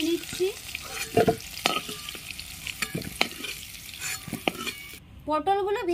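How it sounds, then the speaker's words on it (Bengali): Pointed gourd (potol) frying in oil gives off a low sizzle while a spatula scrapes and clinks against the pan in irregular strokes; a voice briefly speaks at the end. "পটলগুলো ভেজে নিচ্ছি"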